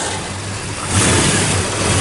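A 1967 Chevrolet Chevelle Malibu convertible with a 283 V8, four-speed and factory dual exhaust runs close by. It settles into a low, even idle, then lifts to a slightly louder, steady rumble partway through.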